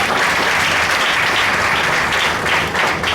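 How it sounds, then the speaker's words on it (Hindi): Church congregation clapping during a Hindi Christian sermon, steady loud applause from a large crowd filling the whole moment. "आप ताली बजाना भूलिए"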